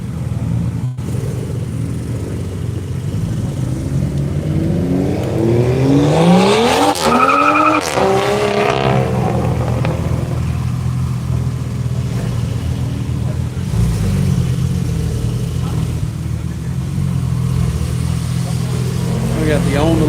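Race cars, Porsches among them and a Camaro, run at speed on a track during a lap-of-America event, with a loud pass and tire squeal mid-clip over a steady engine drone, and voices talking throughout.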